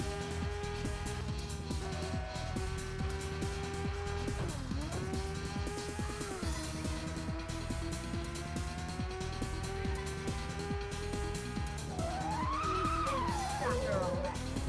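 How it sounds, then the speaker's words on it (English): In the Rage Racer video game, a race car's tires squeal in long sustained screeches over a droning engine and music, the pitch bending and sliding near the end. "That tire screech, holy shit."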